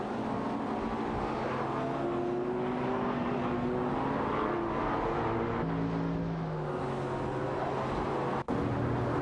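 A McLaren MP4-12C and a Porsche 911 GT2 RS racing in a video game, a continuous engine drone with shifting whining tones as the cars hold speed, steady and moderately loud throughout.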